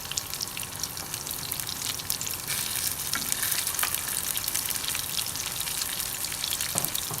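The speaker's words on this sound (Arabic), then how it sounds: "هنا بنات انتقلنا للمقلاة وبدينا نقلي" Pan kebab (kebab taawa) frying in oil, a loud, dense, continuous crackling sizzle filling the whole stretch up close, with a brief knock near the end and no talking.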